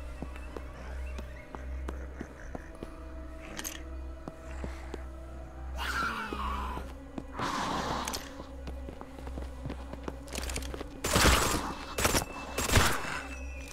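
Gunfire in the video game The Day Before: scattered shots and short bursts over a low steady hum, growing denser and louder toward the end, with footstep-like clicks between.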